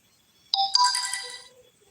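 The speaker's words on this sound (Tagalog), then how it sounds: "Ang ingay nitong cellphone na isa." A cellphone rings with a bright electronic ringtone, a short burst of high tones that starts abruptly, rises in a second layer, then fades, in an otherwise quiet room.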